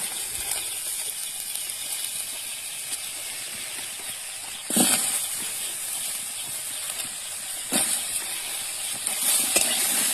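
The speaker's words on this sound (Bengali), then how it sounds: "এবার আমি আলুগুলোকে ভেজে নেব।" Steady sizzling hiss of whole potato chunks frying in hot oil, with a couple of brief louder crackles and stirring clatters.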